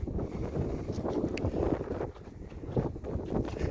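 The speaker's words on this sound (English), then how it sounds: "It's breezy out here today" Breezy wind buffeting a microphone outdoors on a farm field, a steady rumbling gust noise that rises and falls throughout with no voices.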